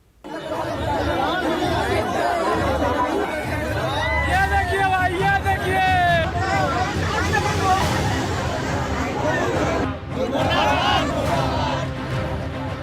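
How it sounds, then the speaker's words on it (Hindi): A large crowd of farmers queuing for fertilizer in Bihar, a dense outdoor babble of many voices and chatter, loud and continuous, with occasional vehicle noise in the background. "ये भीड़ उन किसानों की है जो महज एक बोरी खाद के लिए सुबह से लाइन में खड़े हैं"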